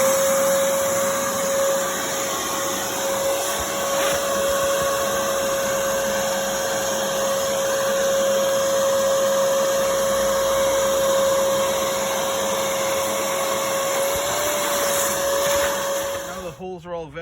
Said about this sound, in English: Next we vacuum up all the dust and we clean out the holes with the brush.